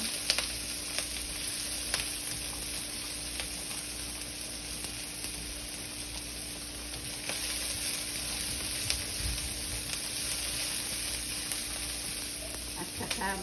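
Onion and ginger sautéing in a pan give a steady, faint sizzle throughout, with a few soft stirring knocks over a constant hum.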